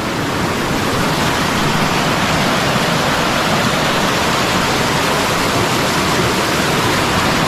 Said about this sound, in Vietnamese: đổ từ trên cao xuống thành từng dòng thác.